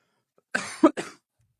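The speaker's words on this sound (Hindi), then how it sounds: "खांसी मुझे आती रहेगी, आई एम सॉरी, रिकवरी मेरी नहीं हुई" A person coughs during a recovery from illness: a short burst of two or three harsh coughs close to the microphone, followed by silence.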